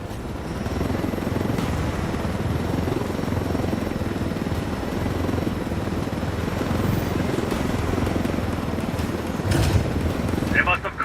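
Helicopter in the video game Ghost Recon Wildlands, a steady loud rotor and engine roar running throughout, with voices talking over it.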